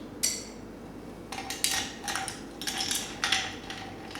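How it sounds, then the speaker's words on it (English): Ice clinks against a glass as it is stirred with TL Pearce Cacao gin at a distillery; close, bright, irregular taps and rattles come in short clusters with no talking. "Give it a good stir."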